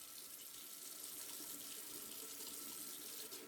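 Very cold water runs steadily from an outdoor tap in freezing, windy weather, a continuous bright hiss and splash that holds even for several seconds with no voices.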